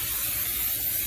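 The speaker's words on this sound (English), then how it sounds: "We're using the AMSOIL silicone spray." AMSOIL silicone spray can releases a steady, powerful hiss as it coats rubber seals during servicing of a 2004 Chrysler Crossfire, continuous and close with no talking.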